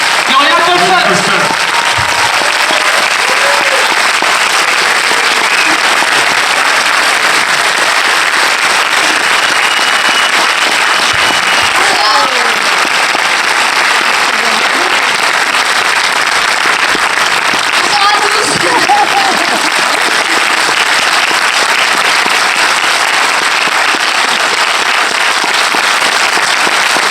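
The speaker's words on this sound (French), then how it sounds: "Et je vous demande de l'applaudir bien fort." An audience at a French film premiere applauds loudly for young actress Gloria Colson, a dense, steady wash of clapping that fills the whole stretch without easing.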